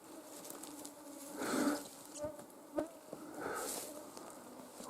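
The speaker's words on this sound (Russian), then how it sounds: "с этим комаром ничего не получается заснять" A mosquito buzzes close by in a forest while out mushroom picking, its whine swelling and fading as it flies past the microphone in a few faint passes.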